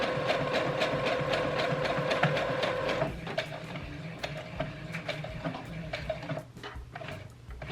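A sewing machine stitching two pieces of caftan fabric with lightweight fusible interfacing stabilizer between them runs with a steady mechanical hum and rapid clicking, easing slightly after a few seconds and continuing unevenly to the end.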